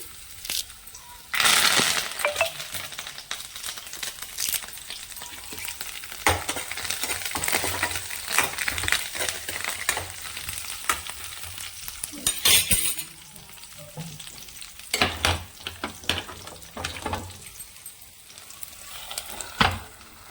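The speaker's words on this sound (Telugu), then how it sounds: "కరివేపాకు వేసేస్తున్నా." Sizzling crackle of curry leaves dropped into hot oil, bursting loudly at first and settling into a steady spitting fry with occasional sharp pops.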